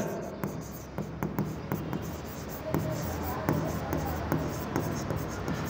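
A teacher writes on a board during a commerce lesson, with repeated taps and scratchy strokes while someone talks over them.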